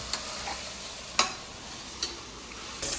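Prawn biryani being fried in a pan, a soft steady sizzle with a few sharp scrapes of stirring, faint and alone without voices.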